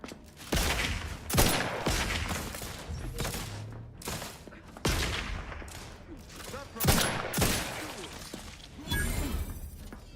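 Gunfire in a firefight in The Outer Worlds 2, with loud sharp shots and bursts in irregular clusters, occasional crashing impacts between them, and brief game voice lines mixed in.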